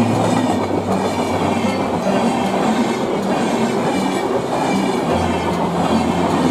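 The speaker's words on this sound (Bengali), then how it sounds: "এটি হলো একটি অন্যতম ট্রেন পূর্বা এক্সপ্রেস, যেটি হাওড়া থেকে দিল্লি যাচ্ছে" The Poorva Express, running from Howrah to Delhi, passes close by on the Burdwan–Howrah chord line, a loud continuous rumble of wagons with rhythmic wheel clatter over rail joints.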